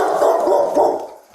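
A dog barks loudly and close by, a cluster of quick barks and yips over little more than a second.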